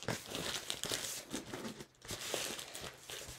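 Origami paper being creased and folded, a continuous close crinkling and rustling with short pauses, no talking.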